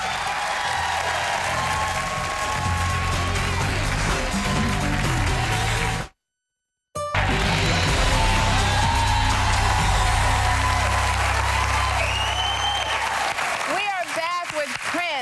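A studio audience on a daytime talk show claps as the show goes to a break, with music and voices mixed in; the sound drops out briefly midway, then resumes at full strength.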